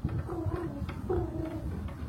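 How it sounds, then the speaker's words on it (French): A pigeon or dove gives two soft, faint coos about a second apart, heard outdoors over a low background hum. "Ah, j'ai entendu un pigeon."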